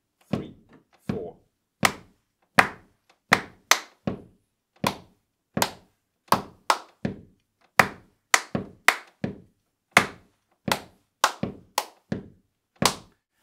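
Sharp hand claps in a rhythm exercise at a music academy skills test, about two dozen crisp strikes in an irregular patterned sequence with short gaps, close and loud with no talking.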